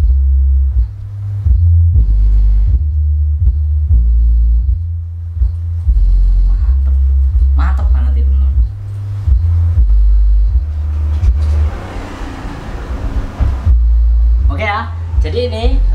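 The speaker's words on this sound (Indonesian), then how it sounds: "Ini nada rendahnya dari speaker" A 12-inch BOB Audio SW-112 SE active subwoofer plays a deep 20 Hz bass tone, a loud steady throbbing rumble in pulsing blocks, with someone talking over it throughout.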